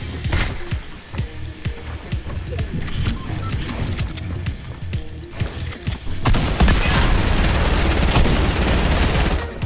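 Rapid gunfire in Fortnite Chapter 2 Season 5, including a P90, with many sharp shots in quick bursts over a busy game backdrop. The firing thickens and grows louder and more sustained in the final few seconds.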